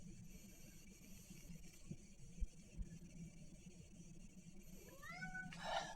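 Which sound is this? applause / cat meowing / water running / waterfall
cat meowing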